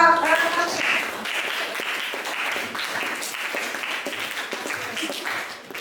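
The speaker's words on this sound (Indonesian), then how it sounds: "Oke, tepuk tangan buat" Students in a classroom clap together for several seconds after a lesson, a dense, steady patter of applause that tapers slightly near the end, with a brief voice at the very start.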